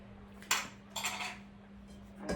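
A metal spoon stirs a beans stir-fry in a pan, giving three or four quiet scraping, clinking strokes spaced apart over a faint low hum.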